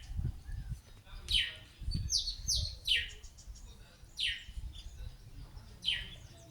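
Small birds in African bush give repeated high, bright chirping calls in short bursts, several phrases spaced a second or so apart, moderately near over a faint low rumble of background noise.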